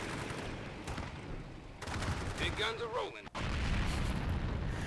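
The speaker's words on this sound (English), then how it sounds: "And there's the missile, so we lose" Missile strike and gunfire in the strategy video game Victory Command: dense crackling fire and rumbling booms throughout, a whistling incoming tone, then a sharp cutoff and a heavier blast, with game voices mixed in.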